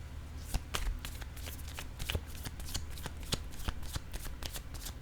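Tarot cards being shuffled by hand, a quiet run of crisp, rapid riffling snaps and flicks repeated in short bursts, close and alone without talk.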